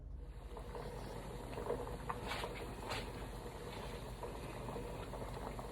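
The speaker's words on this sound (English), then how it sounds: "we've got a good boil going on our eggs now" Eggs boil in a pan of water on the stove, giving a soft, steady bubbling hiss that stays faint and even throughout, with no voices.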